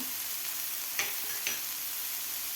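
Vegetables softening in a hot pan as dry spices go in, giving a steady broadband sizzle with two brief louder crackling bursts from stirring.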